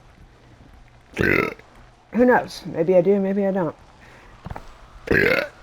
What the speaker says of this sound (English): I can burp whenever I want.